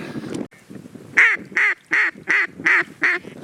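Mallard ducks quacking during a duck hunt, a loose opening call followed by a run of six loud, evenly spaced quacks close by, with no talking.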